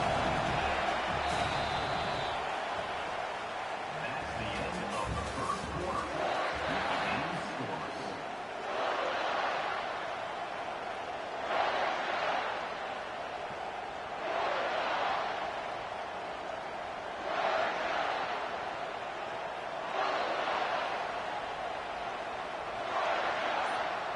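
A college football stadium crowd on third down keeps up a broad roar with rhythmic pulsing swells, steady and loud throughout.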